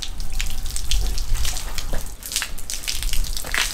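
Water splashes and patters continuously onto a horse being washed and brushed outdoors, with irregular splashy bursts close by.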